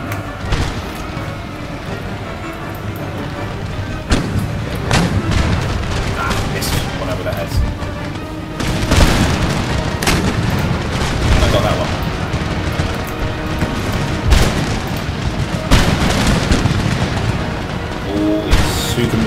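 Musket volleys and an artillery barrage from Empire: Total War play on in a dense, continuous battle roar, with repeated heavy booms and crackling rifle fire building over one another throughout.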